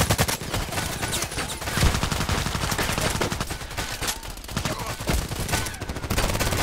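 Rapid gunfire from a weapon in the online shooter game Contract Wars: loud, fast strings of shots crackle almost continuously, with brief gaps between bursts.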